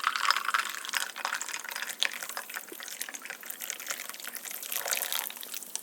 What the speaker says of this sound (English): you pour in the coffee